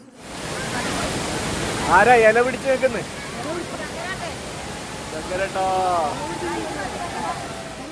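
Steady broadband rush of the Harithirthakkara waterfall at Churalmala fills the whole clip, with people talking over it for several seconds.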